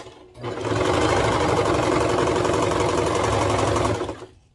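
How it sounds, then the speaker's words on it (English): Serger overlocking the pinned shoulder seams of a kids' tank romper: a loud, close, continuous mechanical whir runs for roughly three and a half seconds, starting and stopping cleanly, with no talking. "We're at the serger, and the first thing we are going to do is sew the shoulder seams here that we got pinned."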